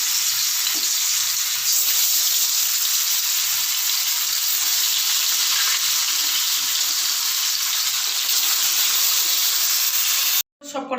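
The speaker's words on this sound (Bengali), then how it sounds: "আমি এগুলোকে তুলে নিয়ে অন্য মাছগুলো ভাজতে দিয়ে দিচ্ছি" Fish frying in mustard oil in a pan gives a loud, steady sizzle and hiss that runs unbroken, then cuts out briefly near the end. A voice speaks faintly beneath it.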